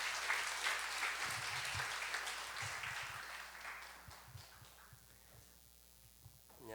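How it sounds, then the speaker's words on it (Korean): Church congregation clapping to welcome a deacon to the front at a Friday evening service. The applause is moderate and fills the room, then thins and fades toward the end. "나오실 때 박수로 환영해 주시길 바랍니다."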